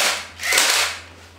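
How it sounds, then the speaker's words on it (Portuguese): An airsoft Desert Eagle GE0402A electric blowback pistol, 6mm, fires a single close, sharp snap with a short hissing tail as the slide cycles, with no voices present. "Apertou a trava de segurança, ó, ela faz um movimento de blowback, vem até aqui atrás e já efetua o disparo."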